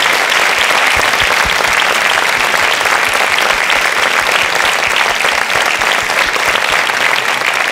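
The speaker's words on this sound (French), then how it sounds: "je pense qu'on peut l'applaudir" An audience at a French literary evening applauds steadily and loudly, a dense, continuous roar of clapping hands from start to finish.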